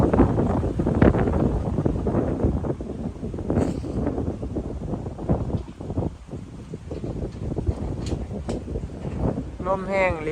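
Strong wind blows steadily outdoors, roaring and buffeting the microphone in continuous gusts for the whole stretch.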